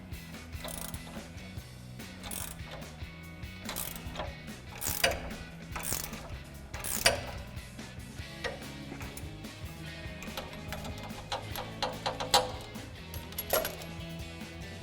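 An Allen socket on a ratchet tightens the front strut nut of a 2015-or-later Ford Mustang, giving repeated metallic clicking strokes with small clanks of tools, close and moderately quiet, with no talking.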